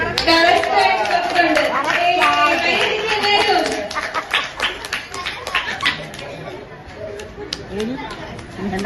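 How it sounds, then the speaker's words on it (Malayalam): A group of children bursts into clapping at an anniversary celebration contest, over loud talking nearby, the applause thinning to scattered claps toward the end. "കൈയടി പിള്ളേരെ, കൈയടി പിള്ളേരെ"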